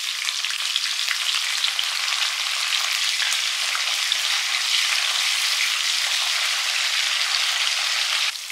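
Small onions fry in oil with fennel seeds, garlic cloves and curry leaves for a South Indian fish curry, a dense, even, close-up sizzle that crackles steadily throughout with no talk.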